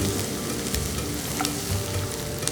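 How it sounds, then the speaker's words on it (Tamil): Coriander, crushed garlic and ginger sauté in a pan for a chicken curry, giving off a loud, dense, continuous sizzle with brief stirring scrapes and no voices. "இடித்து வச்ச கொஞ்சம் இஞ்சி எல்லாத்தையும் போட்டு இதோட வதக்கிறோம்"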